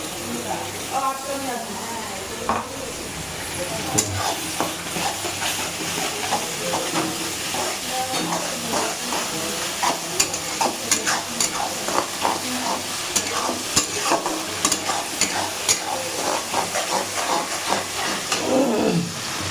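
A paste of ginger, garlic, green chilli and cumin fries with browned onions in a pan, making a loud, spattering sizzle with frequent scraping stirs throughout, while a voice talks at times.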